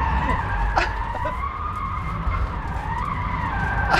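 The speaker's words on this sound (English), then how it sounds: "I go into drift mode, and apparently it can mimic a limited slip differential by controlling each wheel" Rimac Nevera electric hypercar of 2,000 hp drifting, its tyres skidding with a loud, sustained squeal that wavers in pitch over a low rumble, close by.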